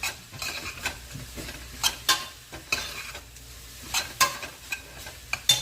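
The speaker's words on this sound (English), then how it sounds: "So this is going to cook for a minute. Really important, you need to bloom those spices out." Dry oregano and spices blooming in a pan for chili con carne, an intermittent close stirring and scraping with soft sizzle underneath, quiet between strokes.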